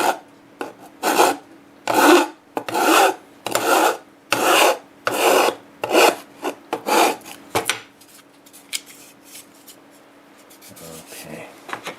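A sharp file rasps across metal in about ten steady, even strokes, close and clear, before the scraping stops and the space falls mostly quiet.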